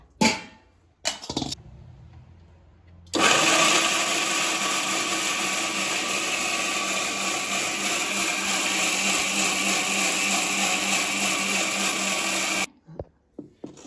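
A mixer grinder blends curry paste for a village-style salted meat curry, running as a loud, steady whirring roar for about ten seconds. It starts and stops abruptly, with a few short knocks before and after.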